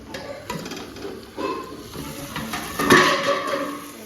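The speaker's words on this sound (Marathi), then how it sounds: "इकडं मासं चालू आहे तळायचं दाखवते एकदा" Fish frying in a pan while being stirred, with intermittent scrapes and metallic clinks over a low sizzle and a faint steady high hiss.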